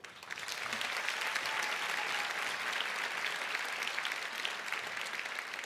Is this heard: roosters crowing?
no